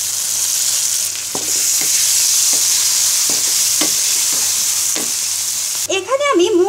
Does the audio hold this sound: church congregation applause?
no